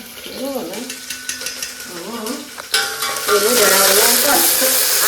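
Dried and green chillies, cinnamon, cloves, curry leaves and onion frying in oil, a steady sizzle that grows to a loud, hissing roar as the onion goes in, with someone talking over it.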